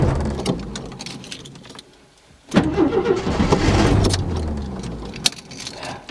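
A rich-running car engine cranks and fires on a cold start at -10°C, a brief lull before it catches, then settles into a rough, loud idle nearby.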